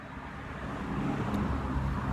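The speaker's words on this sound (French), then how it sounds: "Vous voyez, encore des voitures qui passent." Cars pass by outside as a steady, muffled roadway rumble with a gentle rise in level, heard from indoors at a distance.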